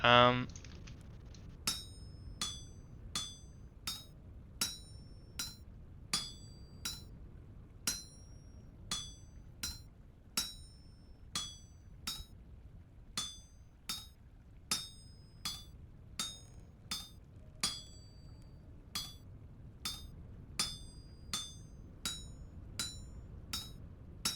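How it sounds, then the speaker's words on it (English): Metal hammered on an anvil in the video game Vintage Story, a steady series of sharp ringing clinks struck at an even rhythm for over twenty seconds, bright and distinct over a low background hum. "I will lock myself in this basement and hammer away."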